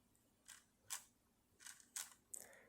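A Soviet Lubitel film camera's mechanism clicks close up and quietly, about six crisp, separate clicks at uneven intervals in a near-silent room.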